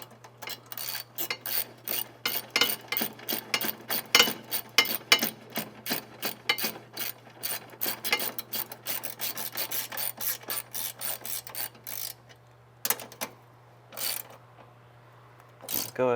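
Ratchet wrench with a 14 mm socket tightening the Eibach sway bar bolts on a VB Subaru WRX, giving long runs of rapid, close clicking over a steady low hum, then a few isolated short bursts toward the end.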